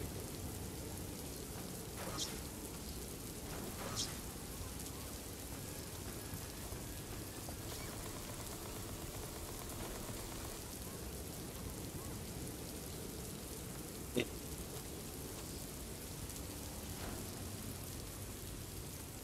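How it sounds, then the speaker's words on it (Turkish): Steady rain falls in the Taxi Rush driving game, an even hiss with scattered faint drop clicks and one sharp tap, continuing without break. "Ha, yağmur yağıyor."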